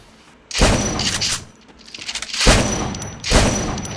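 Bursts of gunfire from the battle royale video game Free Fire: three loud, close volleys of rapid shots with short gaps between them, no talking over them.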